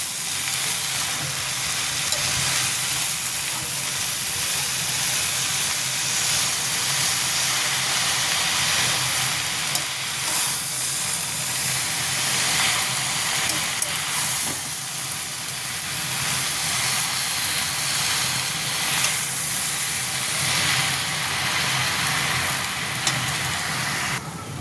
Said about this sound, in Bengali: শাকগুলো দিয়ে এখন ভালো করে মিশিয়ে নেব।